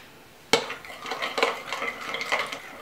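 Spoon stirring wet banana muffin batter made with light brown sugar, eggs and vanilla in a bowl, opening with one sharp knock against the bowl and followed by soft, close scraping strokes with no talking.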